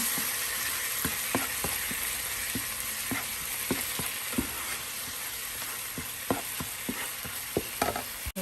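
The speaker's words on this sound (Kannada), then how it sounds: "ಇದೊಂದು 2 ನಿಮಿಷ ಫ್ರೈ ಮಾಡ್ಕೊಳ್ಳೋಣ, ಅದು ಹಸಿ ವಾಸನೆ ಹೋಗೋ ತನಕ." An elephant yam mixture fries in a pan under a constant sizzle, with a spoon tapping and scraping against the pan in a loose, repeated rhythm, close and steady with a sharp knock at the end.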